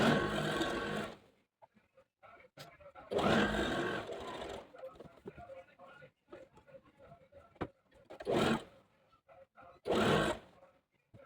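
A sewing machine stitches the sleeves of a top made over from old palazzo pants, running in several loud bursts with quieter handling and fabric noise in the pauses between them.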